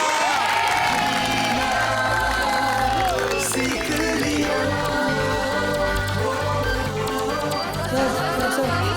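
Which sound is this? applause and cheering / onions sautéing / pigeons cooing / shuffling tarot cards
applause and cheering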